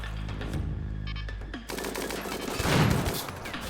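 Defensive turrets firing at attacking deserters in RimWorld: a dense crackle of rapid gunfire with overlapping impacts, growing louder and busier after a short quieter opening.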